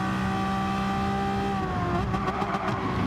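Race car engine in a racing video game, a steady high droning whine holding pitch as it battles a Lamborghini, then shifting and warbling near the end as another engine closes in.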